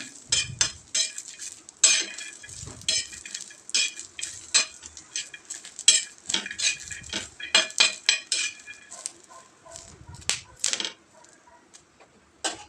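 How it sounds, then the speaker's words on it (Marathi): Green chillies, garlic and raw peanuts dry-roasting on a griddle, with a utensil scraping and tapping against the pan in irregular sharp clatters and a faint sizzle, close and alone without speech. "मिरच्या आणि शेंगदाणे आता व्यवस्थित भाजून घ्यायचं आहे तव्यावर"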